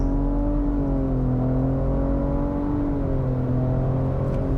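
A 2023 Nissan Rogue Platinum's turbocharged engine holds a steady, loud drone while being brake-torqued, its pitch rising slightly and wavering as it prepares to launch, with no talking.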